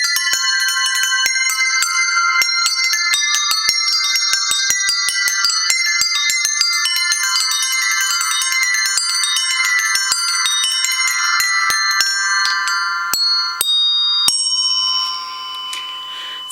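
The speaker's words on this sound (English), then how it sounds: "So these are the round bells" Round bells, a small musical instrument, ring out in a dense, rapid cascade of bright metallic tones for most of the passage, close and loud, then thin out and fade near the end with no voices.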